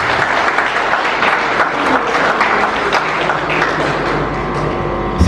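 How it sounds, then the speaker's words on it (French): Steady, full applause from an audience at an awards ceremony for merit and solidarity fills the room without a break, dense and fairly loud throughout. "Sous vos applaudissements, s'il vous plaît."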